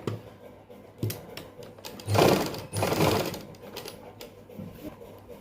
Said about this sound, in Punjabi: ਲੋ ਜੀ ਆਪਾਂ ਸਲਾਈ ਲਾ ਲਈਏ